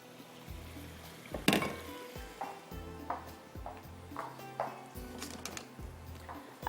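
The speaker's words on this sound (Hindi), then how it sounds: "वेजिटेबल को हल्का सा स्टर फ्राई करेंगे" Vegetables stir-fried for a bean salad in a pan, with repeated soft scraping and stirring strokes, a wooden spoon clacking in an uneven rhythm over a faint quiet sizzle.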